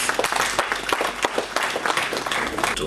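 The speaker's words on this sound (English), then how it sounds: "I believe we deserve a round of applause for ourselves" Scattered applause from an event audience, individual claps standing out over a low murmur of voices for a few seconds.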